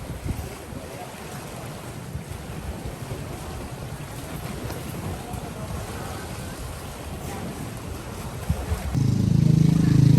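Wind and surf along the beach shore at Pulau Cangkir, a steady broadband rush with the gusts buffeting the microphone and growing heavier near the end.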